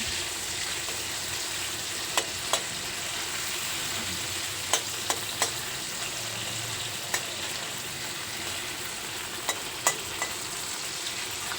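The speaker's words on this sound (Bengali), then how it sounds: "এরপর আবারও ওই তেলের মধ্যে চিংড়ি মাছগুলো দিয়ে চিংড়ি মাছগুলোকেও ভেজে নেব" Prawns frying in hot oil in a pan, a continuous close sizzle and crackle with occasional sharp pops and light utensil taps, no voices.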